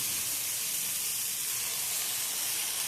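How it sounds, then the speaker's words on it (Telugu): Rice dosa batter poured onto a hot oiled pan gives a steady, close, bright sizzle and hiss that holds evenly throughout, with no voices. "ఆయిల్ వేసిన తర్వాత కొంచెం వేడెక్కిద్ది కదా, వేడెక్కిన తర్వాత మళ్ళీ దోశ అనేది వేయాలి"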